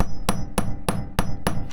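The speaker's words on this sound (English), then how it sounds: "Put the shaped side on the grommet, and then hammer down until the grommet kind of" Five sharp metallic hammer blows strike a grommet setting tool on a sail, evenly spaced at roughly a third of a second apart, loud and close with short ringing after each hit.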